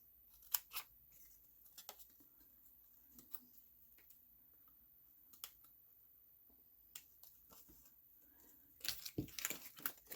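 Scissors trim a paper card in a quiet room, giving a few faint, scattered snips and crinkles, with a louder burst of paper rustling and cutting near the end.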